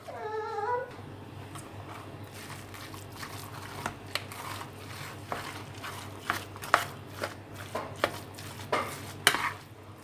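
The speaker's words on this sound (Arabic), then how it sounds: "هبدا بقى اللي انا اقلبها، اقلب كل ده مع بعضه بقى كده عشان اتاكد ان البصل وصل للحمه" Minced meat with onions and spices being stirred in a pan at home, with scattered spoon scrapes and clicks over a low steady hum; a cat meows clearly at the start.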